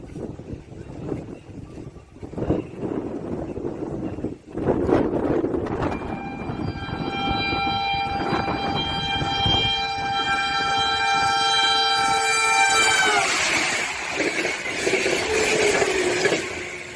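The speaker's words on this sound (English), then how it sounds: "Footage captured a train slamming into a trailer in downtown Ackworth, Georgia, blasting debris and dust across the street." A train in downtown Acworth, Georgia rumbles past and sounds a long, loud multi-tone horn blast that holds for several seconds before cutting off into rushing noise and clatter.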